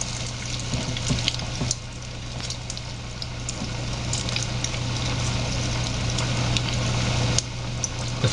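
Paruppu vadai, lentil fritters, sizzle steadily in hot oil, a close, continuous bubbling hiss with a few sharper pops and a low hum underneath.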